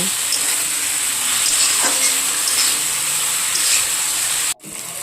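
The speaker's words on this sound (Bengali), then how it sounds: "আগে থেকে ভেজে রাখা কচুলতি দিয়ে দিব, দিয়ে ভালো করে ভেজে নেব" Pre-fried taro stolons (kochur loti) frying in turmeric and salt spice paste for a shrimp dish. A loud, close, steady sizzle hisses throughout and cuts off abruptly near the end, with faint stirring. No one speaks.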